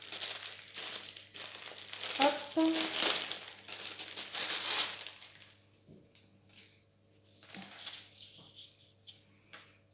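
Crisp, irregular crinkling of transparent plastic packaging as a cross-stitch canvas from an Aliexpress order is unwrapped, loud bursts then quieter rustles, with a brief spoken word.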